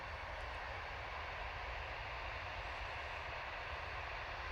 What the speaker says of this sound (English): Aer Lingus prop coming in from Dublin using their ATR 72